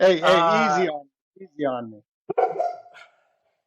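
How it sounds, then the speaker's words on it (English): A dog barks in the background during a home video call, a few loud, separate barks and yelps spread over a few seconds, with a person speaking briefly between them. "I don't know if you can hear my dog barking in the background."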